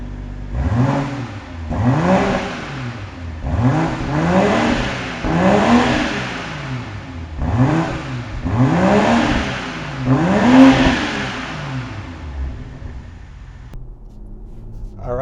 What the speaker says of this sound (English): let's go ahead and hear this exhaust system